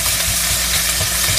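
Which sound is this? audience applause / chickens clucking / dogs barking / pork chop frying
pork chop frying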